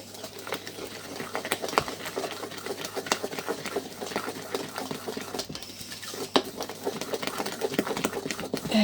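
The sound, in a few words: mixing lemon and almond cake batter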